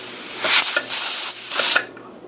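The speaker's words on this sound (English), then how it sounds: "I got to let it have a steady stream of steam for 10 minutes before we come back." A pressure canner loaded with jars of Dutch hutspot vents steam in a loud, close hiss that surges in three strong bursts before cutting off, with no voices.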